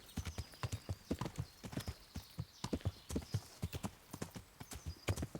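Horse hooves clip-clopping in Kingdom Come: Deliverance, a brisk, even rhythm of sharp hoof strikes at moderate distance, continuous from start to finish.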